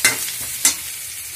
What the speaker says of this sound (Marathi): आपल्याला कांदा असा मस्त असा भाजून घ्यायचा आहे तेलामध्ये